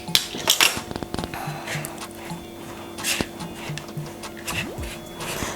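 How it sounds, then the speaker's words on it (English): Oat and coconut cookie dough is mixed in a bowl, with scraping and clinking of a utensil against the bowl in irregular close knocks and taps, and a faint voice in the background. "I'm going to mix it up again so I get the right texture."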